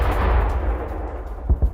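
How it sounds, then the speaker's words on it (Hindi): Cluster bomb explosions on a road in Kafr Qasim, heavy booming blasts up front followed by two sharp, close thuds near the end, loud and without talk. "सड़क पर क्लस्टर बॉम्ब का विस्फोट दिखा है।"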